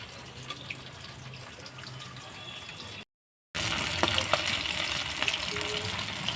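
Jackfruit and prawn pakoras frying in hot oil, a steady soft sizzle with faint crackles that cuts out briefly midway, then returns louder and busier with sharper pops.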